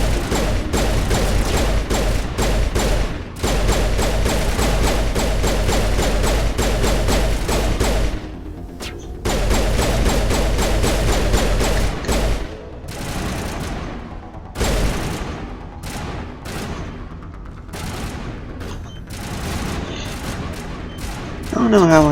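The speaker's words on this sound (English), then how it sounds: "to click each time in order to fire the weapon, the pistol" A pistol fires repeatedly in Mass Effect on Eden Prime, sharp loud shots in fast, steady bursts with brief pauses, over continuous game sound and someone talking.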